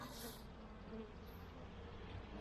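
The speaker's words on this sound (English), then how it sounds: "there's a lot of bee activity and the bees just seem really calm" Honeybees drone in a steady, soft, continuous hum around a queen mating nuc hive, faint and close, with no voices.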